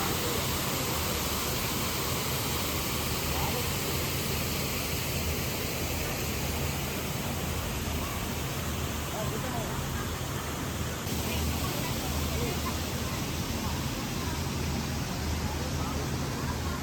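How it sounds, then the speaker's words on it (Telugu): A waterfall at a restaurant in Vijayawada, a dense, steady rush of falling water that stays loud and unbroken throughout. "అండ్ ఇక్కడ వినాల్సిందే ఈ వాటర్ ఫాల్ సౌండ్,"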